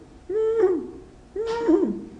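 A person mimics a baby cooing, making two soft, wavering coos with a short pause between them, close and clear.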